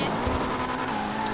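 A supercar in GTA V slides through a handbrake turn, its engine droning steadily with tire noise over the brief moment, a voice speaking briefly over it.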